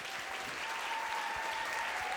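A small gathering at a meditation retreat applauds in a short, fairly faint burst of steady clapping lasting about two seconds.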